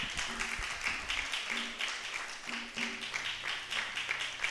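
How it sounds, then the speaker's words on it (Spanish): Congregational applause during a Spanish-language church service, a brief dense burst of clapping mixed with some voices and pulsing background sound. "Bríndele ese fuerte aplauso al Señor."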